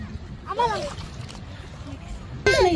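Water sloshing and splashing as a child swims at Half Moon Beach in Khobar, Saudi Arabia, with steady wash and a louder splash near the end, under a voice and nearby chatter.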